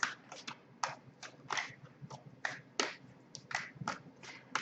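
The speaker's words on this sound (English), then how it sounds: "I'll go ahead and start shuffling here" A deck of tarot cards is shuffled by hand, producing a series of crisp, quiet riffling snaps in an irregular rhythm, close and soft, with no talking.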